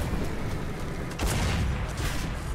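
A rapid burst of machine-gun fire from an Achilles tank in War Thunder, with dense, rumbling reports and a sharper crack partway through, fairly loud and with no speech.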